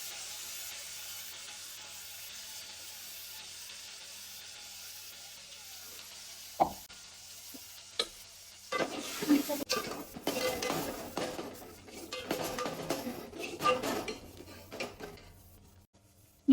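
Ground sabudana batter poured into hot tempering of pepper, curry leaves and turmeric in a pan, with a few sharp utensil clanks and then a burst of bubbling sizzle and stirring that carries on over a quiet kitchen background.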